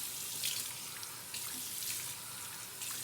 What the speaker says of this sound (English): we want to get our face nice and wet with very warm water to soften up our beard